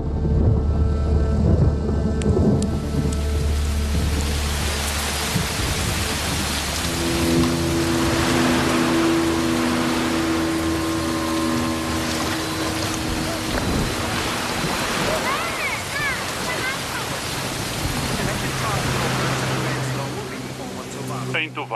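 A heavy thunderstorm in Tuvalu: steady dense rain pours down while low thunder rumbles roll through, loud and continuous, with some other low tones layered underneath.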